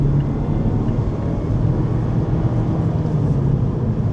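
A car on a foggy road trip pulls out to overtake a Honda Civic, its engine and road roar a steady, loud, continuous rumble throughout.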